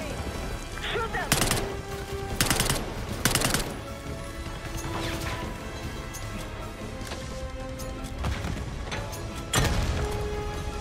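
Gunfire in the video game Call of Duty: Black Ops 6, with sharp loud shot bursts and crashes scattered through the clip, several clustered early and more near the end, over continuous game background noise.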